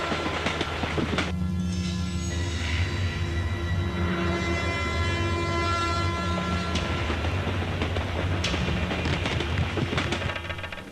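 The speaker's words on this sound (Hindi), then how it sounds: "चलती ट्रेन में कमलापुर के गंगा रायडू के आदमी चढ़ रहे हैं।" A moving train in a Hindi-dubbed film scene gives a loud, steady rumble with rattling wagon clatter and rail noise that holds for the whole stretch, with no voices over it.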